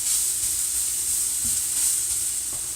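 Matzo brei fries in a pan with a steady, loud sizzle while being mixed around, with a couple of faint spatula scrapes.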